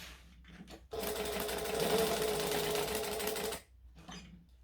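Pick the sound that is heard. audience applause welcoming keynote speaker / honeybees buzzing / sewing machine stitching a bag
sewing machine stitching a bag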